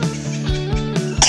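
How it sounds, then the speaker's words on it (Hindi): A person coughs close up, with about three short, harsh coughs in a quick row. "खांसी हो रही है।"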